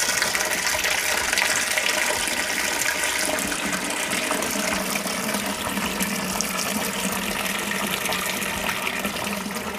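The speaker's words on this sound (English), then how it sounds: "so you can actually pour it straight into your vat" A steady, continuous stream of bright brown Sauvignon Blanc wine from a kit pours and splashes into a vat, loud and unbroken for the whole stretch.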